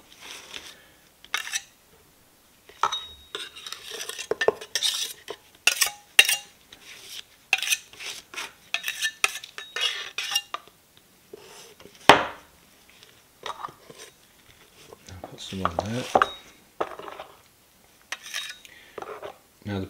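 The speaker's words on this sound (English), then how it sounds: "So I'll just scrape that up." Stiff plaster being scraped up the inside wall of a cardboard waste mould for a hollow cast, a series of short, close scraping and tapping strokes separated by pauses, with no talking.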